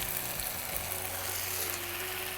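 Eggplant fries with spices in a pan, giving a steady, moderately loud hiss and sizzle with faint stirring sounds close by; no voices.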